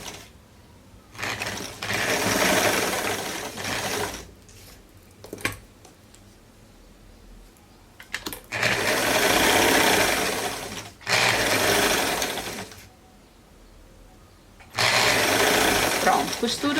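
Domestic sewing machine stitching a raglan sleeve seam, running in four loud bursts of steady motor whir separated by quieter pauses with handling sounds.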